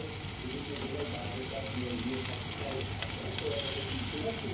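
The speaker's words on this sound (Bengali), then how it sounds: "আমি এটা একটু উল্টে দিলাম, ভালো করে গরম হতে দেবে তেলটা।" Fish fritters fry in hot fish oil with a constant soft sizzle and crackle, heard fairly quietly throughout while someone talks over it.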